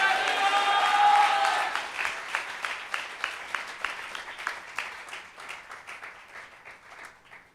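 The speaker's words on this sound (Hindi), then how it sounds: "कोई ताली बजा के जोर से प्रभु को धन्यवाद दे" A church congregation applauds at a sermon, clapping loudly together at first, then settling into rhythmic group claps that slowly fade.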